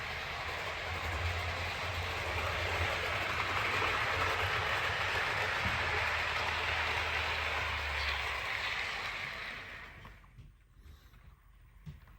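A model railway locomotive hauls a night mail train along the track, giving a steady, close rumble with faint rail clatter that carries on for about eight seconds, then fades and stops, leaving near silence.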